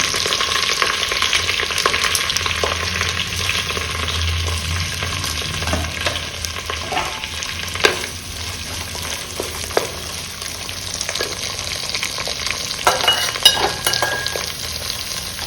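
Beetroot fries in a pot, a loud, continuous crackling sizzle running throughout with occasional stirring scrapes and clicks.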